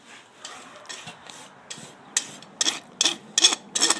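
A hoof rasp files and rounds the toe and sides of a horse's hoof during a trim, sounding as a series of short scraping strokes that grow louder and more regular toward the end, close by with no talk.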